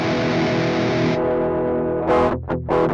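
Electric guitar through an Orange-style amp sim with a tube screamer drive, a sustained crunchy distorted chord ringing alone, then choked off into a few short rhythmic strums.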